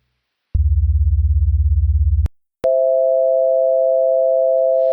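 A low, buzzing sine-tone chord of low C and E pulses with fast beating for about two seconds, then after a short gap a steadier, higher sustained sine tone follows.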